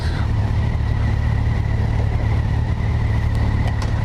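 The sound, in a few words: Kawasaki Versys 1000 LT SE motorcycle engine accelerating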